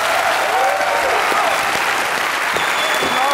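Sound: D: studio audience applause for a singer

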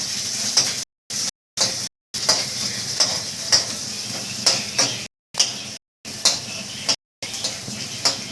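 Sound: onion frying and being stirred in a pan

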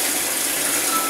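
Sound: water filling a bowl

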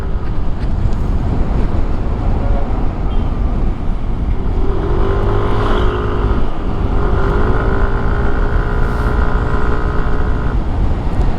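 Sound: Yamaha NMAX v3 scooter engine at speed

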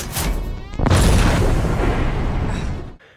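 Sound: flash explosion sound effect from video game Alien: Isolation

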